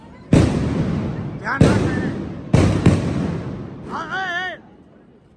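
Diwali firecrackers bursting nearby, three loud sharp bangs spaced about a second apart, each trailing off, followed by a person speaking.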